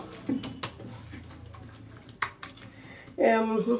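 Water is poured into a cooking pot while lunch is prepared in a home kitchen, heard as a brief rushing splash near the end after faint clinks and quiet talk.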